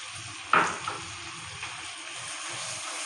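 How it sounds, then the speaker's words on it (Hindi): Chicken fries in a pan for dagi biryani, a soft continuous sizzle with one sharp clink near the start and a few faint stirring sounds, close by and without speech. "चिकन को हमने कलर चेंज होने तक इसको फ्राई करना है।"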